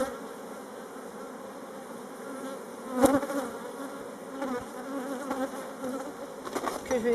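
A honeybee swarm being moved from a small nucleus box into a full hive gives a steady, close buzz of many bees, with a few louder swells and rustling bumps as the frames are handled.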